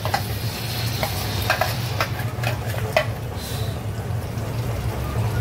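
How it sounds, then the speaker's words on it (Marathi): Tomato-onion puree being stirred into a hot, sizzling paneer tikka masala in a pan, a continuous close sizzle with scraping spoon strokes and soft liquid squelches, no clear talk. "आणि आता आपण ही बनवलेली प्युरी ती याच्यात मिक्स करायची आहे."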